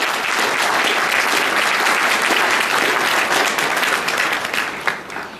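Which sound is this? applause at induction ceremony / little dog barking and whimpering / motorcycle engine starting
applause at induction ceremony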